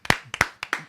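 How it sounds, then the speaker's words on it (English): A handful of sharp, close hand claps in a quick uneven rhythm, sounding like one or two people clapping rather than a crowd, at the opening of a podcast. "Can we get a round of applause?"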